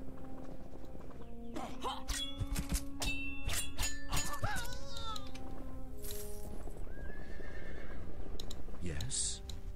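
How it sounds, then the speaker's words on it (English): In the fantasy action game Sacred Gold, a horse whinnies loudly while hooves clatter during a charge, mixed with sword clashes, other game effects and someone talking over the action. "Charging with the horse."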